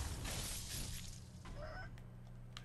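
Chirpy, electronic-sounding bird squawks and clucks from the game Sekiro: Shadows Die Twice, mixed with game sound effects and a low hum, faint under a busy noisy background.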